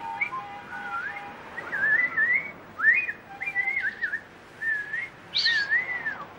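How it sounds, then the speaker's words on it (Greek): A person whistles a series of shrill, looping melodic phrases to call for keys, with short bursts separated by brief pauses, fairly close and clear, with no talking. "Δηλαδή συνεννοούνται με το σφύριγμα"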